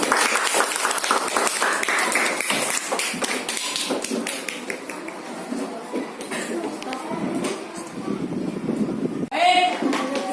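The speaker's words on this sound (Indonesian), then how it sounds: "tepuk tangan dulu kita semua" A class of students applauding during a lesson on the faces of a cube: dense, close, sustained clapping from many hands for about nine seconds, with a brief voice near the end.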